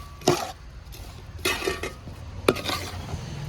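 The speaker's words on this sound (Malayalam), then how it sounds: "ഈ വറുത്ത് വെച്ച മീനും കൂടെ നമുക്ക് ഇതിൻ്റെ കൂടെ ഇട്ട് കൊടുത്തേക്കാം. മൊത്തം നല്ലപോലെ ഒന്ന് ഇളക്കി കൊടുക്കുക." Spoon stirring fried sardines into a pickle mixture in a pot, three distinct scraping, clattering strokes spaced about a second apart over low background hiss.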